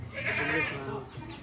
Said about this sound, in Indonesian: Ndelok kambing, guys